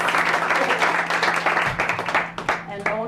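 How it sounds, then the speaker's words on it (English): An audience applauds distinguished guests at a health-and-media panel event: a thick wash of clapping heard in a hall with a steady low hum, while voices speak over it toward the end. "So please, let's give a round of applause to our very distinguished guests."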